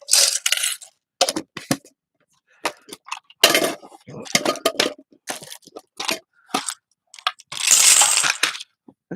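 Plastic gears spill out onto a craft table in a burst of clattery clicks and rattles, separate clusters of small impacts coming in irregular bursts with brief gaps, then a denser rattling pour near the end.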